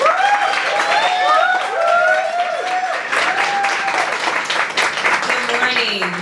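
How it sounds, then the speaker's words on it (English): An audience at a Dallas chorizo menudo breakfast cheers and applauds to welcome Congresswoman Jasmine Crockett, with steady clapping and a crowd voice rising over it. "a big round of applause to our Congresswoman"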